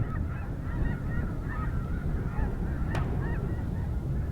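Snow geese honk repeatedly at a distance at Frank Lake over a steady low rumble of wind, the calls overlapping in a loose, continuous chatter.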